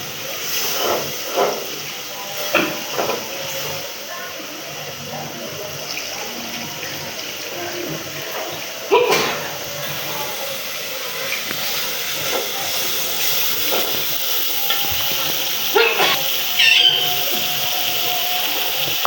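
Spice paste fries steadily in a pan in a village kitchen, a continuous close sizzling hiss with scattered sharper pops and crackles, running alone throughout.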